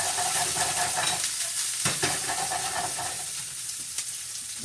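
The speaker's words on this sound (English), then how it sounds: "You will let the onion sizzle for about 30 seconds." Onions sizzle steadily in a hot pan, a continuous crackling hiss with a few scraping stirs, no voices.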